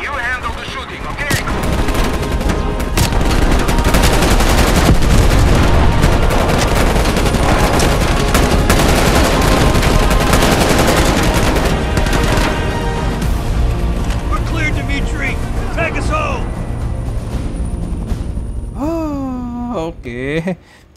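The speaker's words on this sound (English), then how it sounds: "I'll handle the flying, you handle the shooting, okay?" Gunfire in Call of Duty Black Ops Cold War: dense, loud bursts of shooting and explosions mixed with game music and effects, continuous for most of the stretch before cutting off near the end.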